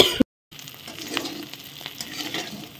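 Bitter gourd frying in a pan, a soft continuous sizzle with occasional stirring scrapes, close and fairly quiet after a brief clunk and moment of silence at the start.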